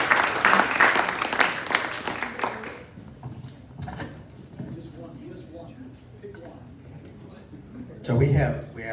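Audience applause at an evening talk event fills the opening seconds as a dense, loud wash of clapping, then fades into quieter room noise and murmuring before a voice speaks near the end.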